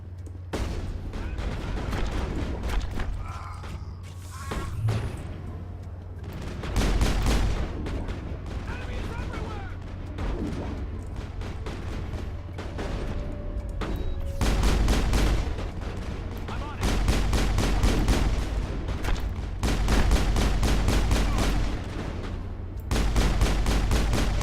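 Gunfire in the sci-fi video game Mass Effect: repeated bursts of loud rapid shots and booming blasts, some sustained like automatic fire, with quieter gaps between volleys and occasional voices.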